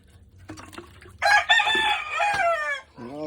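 A chicken in a backyard coop gives a few soft clucks, then a loud, drawn-out crow close by, followed by another short call, with no talk over it.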